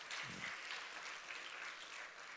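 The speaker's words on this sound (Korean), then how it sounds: "박수로 영광을 돌립니다." Church congregation applause at a dawn prayer service, a soft, distant, continuous patter of many hands clapping, faint and even throughout.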